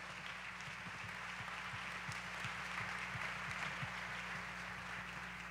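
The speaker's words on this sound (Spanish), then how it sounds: "Dele un fuerte aplauso a todos estos invitados" Audience applause for invited pastors at an evening church gathering, steady clapping held throughout over a low, continuous hum, fairly faint and with no voices on top.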